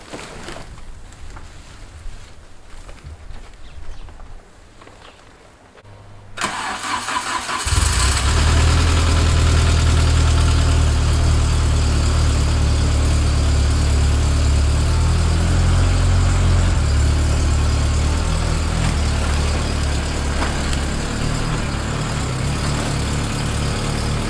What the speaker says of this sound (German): ich fahre den jetzt einmal kurz ein Stück raus